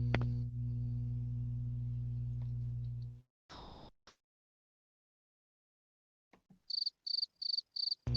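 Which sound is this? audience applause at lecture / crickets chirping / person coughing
crickets chirping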